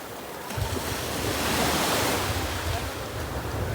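Ocean waves roll in on Cabo da Roca beach as a steady broadband wash that swells and holds, with wind buffeting the microphone, close and loud, no voices.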